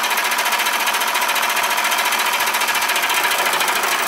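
A small pump on a modified Wilesco D32 toy steam engine running on live steam chatters in a fast, even mechanical rhythm, close and steady throughout, with no voices.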